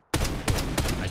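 Rapid rifle fire sounds in the shooter game Lost Light. Three or four loud, sharp shots follow one another within about a second after a brief silence.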